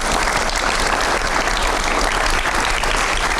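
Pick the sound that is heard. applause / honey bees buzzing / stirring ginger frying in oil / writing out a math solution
applause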